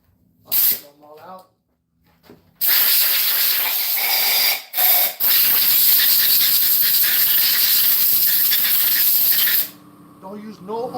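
Compressed air blasting debris out of aluminum cylinder heads, sharp loud hissing bursts, a couple of short ones followed by a long sustained blast, with someone talking in the gaps.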